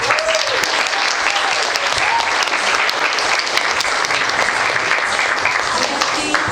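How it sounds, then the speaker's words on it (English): An audience at a Heritage of India Day event claps loudly and steadily, dense applause filling the room without pause. "Give them one more round of applause."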